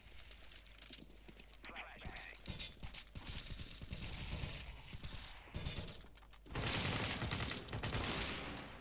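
Sniper rifle shots in a video game ring out amid clicking bolt and mechanism sounds, with a louder dense burst near the end, while someone talks throughout.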